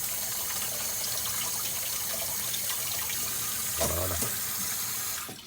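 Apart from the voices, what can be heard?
rinsing chicken escalope under running tap water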